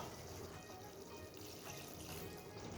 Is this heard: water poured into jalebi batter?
yes